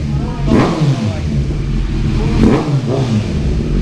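Suzuki Hayabusa sport bike fitted with a Venom exhaust, revved in a few quick throttle blips at close range, a rough, loud engine note with someone talking over it.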